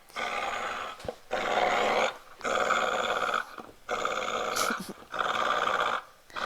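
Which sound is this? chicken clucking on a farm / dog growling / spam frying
dog growling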